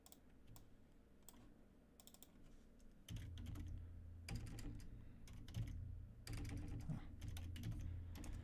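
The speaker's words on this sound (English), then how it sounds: "It's tough to type sometimes because I can't see my keyboard through my microphone." Computer keyboard typing in quick, irregular clusters of soft clicks, close by, over a low steady hum that gets louder partway through.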